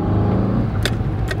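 An old car with 187,000 miles and an aftermarket cold air intake pulls away, its engine giving a steady, close, throaty drone that stays loud and even throughout.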